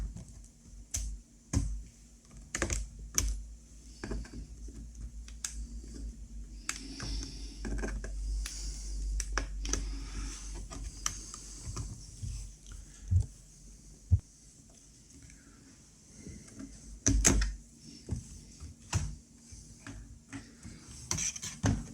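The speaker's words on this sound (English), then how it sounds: "I think with the prizing tool, I think we can get this keyboard out." A pry tool works the keyboard out of an Asus K53E laptop, making scattered sharp plastic clicks and snaps with quiet scraping and handling between them, close up.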